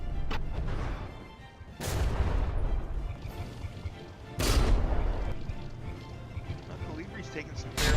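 Naval guns firing in the From The Depths naval combat game during a frigate battle, two loud booming blasts about two and a half seconds apart over a steady rumbling battle din, with a voice talking throughout.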